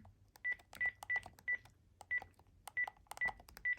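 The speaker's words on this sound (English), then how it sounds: "it's going to, of course, get the stutter tone to indicate there's a new voicemail" A Panasonic KX-PRS120 cordless phone playing its stutter dial tone for a new voicemail, a clean series of about eight short, evenly spaced beeps, close and alone.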